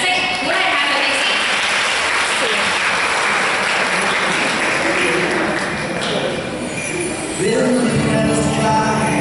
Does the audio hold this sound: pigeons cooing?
no